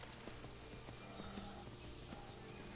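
Horse hooves clip-clop in a steady trotting rhythm in the Skyrim video game, soft and mid-distance under a constant wash of ambient game noise.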